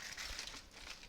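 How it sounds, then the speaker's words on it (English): A tin foil pouch holding tortillas crinkles faintly and briefly, a soft papery rustle heard alone. "this is how I like to reheat or heat up tortillas, in a tin foil pouch like that"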